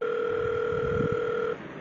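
Steady two-tone telephone dial tone heard while calling a substation, a continuous clear hum lasting about a second and a half before cutting off into quiet line noise.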